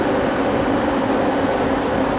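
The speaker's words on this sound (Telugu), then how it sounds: "మన హైడ్రోజన్ ట్రైన్ ఫస్ట్ టైం అయితే ఖాళీ వందే భారత్ అయితే ఓవర్టేక్ కొట్టింది." Namo Green Rail hydrogen-powered train on the Sonipat to Jind line pulling away, heard as a steady close rumble and rolling hum that stays even throughout, with no talking.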